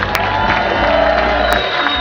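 A cruise ship crowd cheers and claps for the host Colin in a continuous, fairly loud roar of voices and whoops that holds steady throughout.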